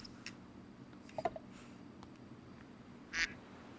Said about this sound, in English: An Egyptian goose.